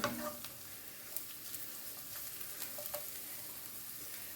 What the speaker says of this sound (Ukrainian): Смажиться морква